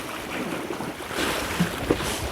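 Strong sea wind gusts across a fishing boat off Silido, Masan, a steady broadband roar with buffeting microphone noise and a couple of brief knocks near the end, no voices.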